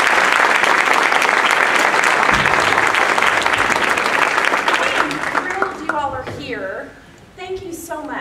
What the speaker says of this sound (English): please, ladies and gentlemen, let's give a huge round of applause for Ms. Kristen Christy.